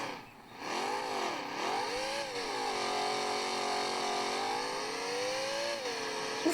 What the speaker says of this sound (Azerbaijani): motor səsinə baxın